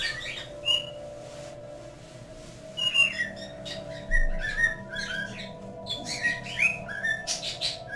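Pet birds whistle and chirp close by in a lively, irregular stream of bright calls and short squawks over a steady low hum, with no talking.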